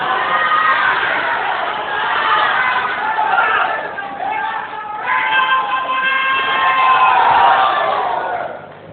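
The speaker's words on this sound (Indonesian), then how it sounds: "kita jemput dengan tepuk tangan yang meriah Bapak Profesor Insinyur Haji Irwan Effendi," An audience at a regional candidates' debate in Rokan Hulu cheers and shouts loudly as a guest is welcomed. The roar of the crowd is continuous and swells and dips, with voices mixed in.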